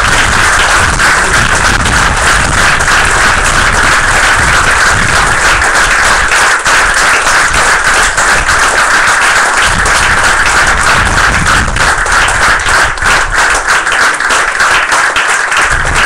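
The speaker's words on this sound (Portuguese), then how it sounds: "para aplaudir Jesus" A church congregation applauds during a Bible study service, loud and sustained clapping filling the room for about sixteen seconds with a few louder individual claps standing out.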